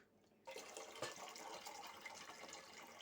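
Pickle marinade poured off from jars of cucumbers being preserved, a steady rushing stream of liquid that starts abruptly after a short quiet moment and runs on continuously, close and fairly loud.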